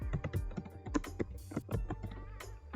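Computer keyboard typing on a Windows PC, a quick irregular patter of crisp key clicks, close and moderately quiet, with no voices.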